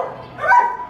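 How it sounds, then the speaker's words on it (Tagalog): A single sharp dog bark, close and loud, rising out of a brief whine. "Ang tapang ng aso mo."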